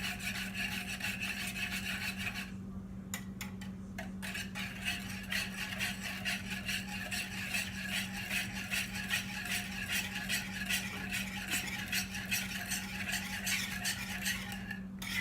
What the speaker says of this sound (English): we want to whisk it around until it all looks like one solid mixture